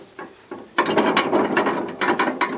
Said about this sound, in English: you hear this rattling?